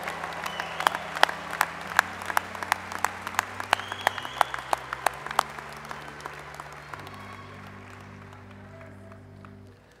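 Sustained audience applause at a university agriculture and natural resources commencement ceremony, greeting forestry graduates; dense steady clapping from a large crowd, loud for several seconds before gradually thinning and fading, with a faint voice underneath at times.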